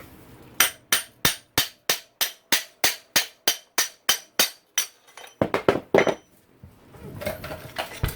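Sharp metallic strikes in a steady, even rhythm, about a dozen hammer blows driving out a motocross dirt bike swingarm bearing, then a quicker cluster of knocks followed by scraping and rustling.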